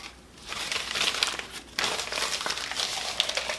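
Newspaper being crumpled to cover a jar of Kalanchoe leaves steeped in alcohol, with close crinkling and rustling in bursts, a brief pause, then a sharper crackle before the rustling carries on.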